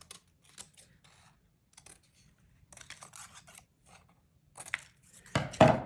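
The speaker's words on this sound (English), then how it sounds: "And I can just simply cut these 4 pieces" Scissors snipping through folded paper, a series of short crisp cuts spaced apart, close and clear, ending in a louder rustle of paper handling.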